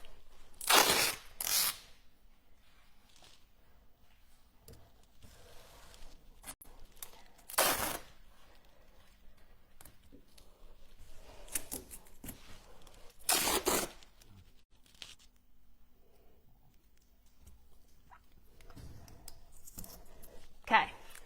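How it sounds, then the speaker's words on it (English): Masking tape is torn off the roll and pressed onto a piece before stenciling, giving several short, sharp ripping bursts spaced apart, with soft rubbing and handling noises between them in a quiet room. "I'm securing the areas where I don't want any paint to actually get onto my piece with some masking tape"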